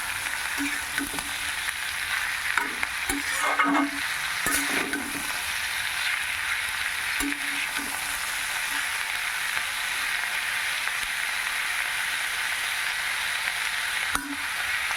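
Bata fish and brinjal sizzle steadily in a frying pan, a continuous close hiss of hot oil with occasional louder crackles and faint stirring clinks.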